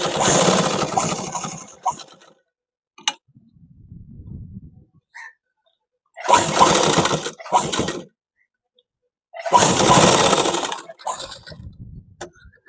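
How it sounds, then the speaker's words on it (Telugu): A sewing machine runs in short bursts while top-stitching a school shirt collar, close and fairly loud, with quiet gaps and faint handling noises between runs. "దీని మీద నుండి ఒక టాప్ స్టిచ్ వేసుకోవాలి"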